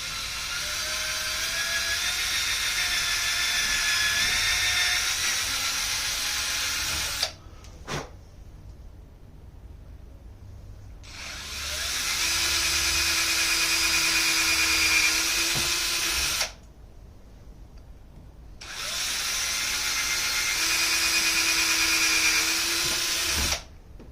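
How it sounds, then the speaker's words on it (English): A power drill bores straight through wood while building a mandocello, whirring loudly at high speed in three long runs separated by quiet pauses with small clicks and handling noises. "Now we got to do some drilling."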